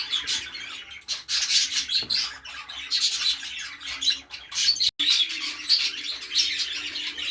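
Budgerigar chicks chirp and squawk in a breeding room, producing a near, continuous chatter of high, rasping calls with brief pauses and no talking.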